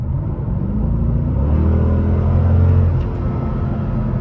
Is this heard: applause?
no